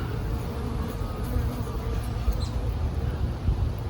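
Honey bees hum in a steady, continuous drone around a hive during watering, with no talking over the buzz.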